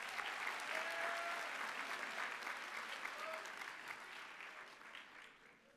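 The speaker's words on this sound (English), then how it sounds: "Let's give our speakers another round of applause." Audience applause at a convocation ceremony, a dense sustained clapping from a large crowd that holds steady, then gradually fades toward the end.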